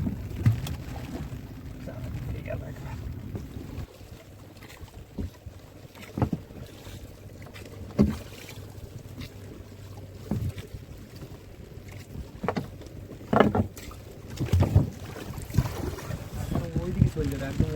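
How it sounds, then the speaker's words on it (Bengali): Heavy rain and gusting wind buffet a small fishing boat on Sundarbans waters, a steady broadband wash with intermittent thumps and knocks against the hull, occasional voices faintly under the weather. "আর প্রচণ্ড বৃষ্টি হচ্ছে। তারপরে হাওয়া উঠেছে, আমাদের ছোটো নৌকা হাওয়ায় একটু অসুবিধা হচ্ছে।"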